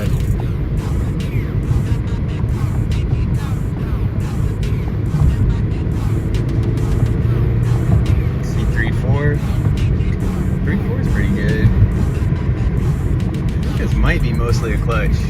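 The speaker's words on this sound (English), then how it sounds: "So yeah, just got done driving. Drives really good." Steady road and engine noise from inside a 2006 Honda Civic Si with a worn clutch, heard continuously while driving, with someone talking over it throughout.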